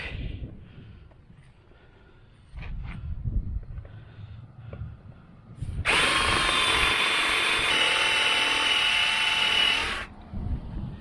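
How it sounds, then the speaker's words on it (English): A power drill whines loudly into hardened metal behind a trailer light for about four seconds, preceded by quieter clinks and handling noises. "the centerpiece right here is really hardened metal, and it's hard to drill out"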